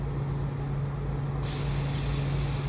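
Compressed air blowing through a Cerakote spray gun nozzle to clean it: a steady close hiss that turns sharply brighter and stronger halfway through, over a constant low compressor hum.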